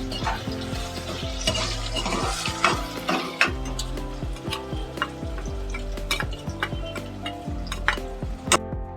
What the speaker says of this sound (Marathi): आणि ताबडतोब आता आपण याच्याबरोबर आलं लसणीची पेस्ट घालून घेऊया. ती पण ढवळून घेते.